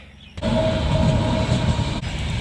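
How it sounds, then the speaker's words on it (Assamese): A long train passes close by, its loud, steady rumble and rattle starting abruptly and continuing to the end, with no speech. "মস্ত দীঘল ট্ৰেইন দেই"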